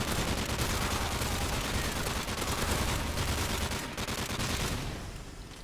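Dense, continuous gunfire from the Call of Duty MW3 Survival game mode, sustained rapid shots filling the whole stretch, loud and busy, thinning slightly near the end.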